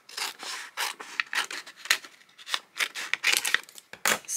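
Scissors trim a paper envelope up close with a steady run of crisp snips and rustling paper cuts in an uneven rhythm, with no talking.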